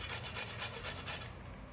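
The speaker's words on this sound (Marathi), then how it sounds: "आता मी गाजर किसून घेत आहे." Carrots are grated by hand for carrot halwa, giving a steady rhythmic rasping scrape of repeated close strokes with no talking, stopping just before the end.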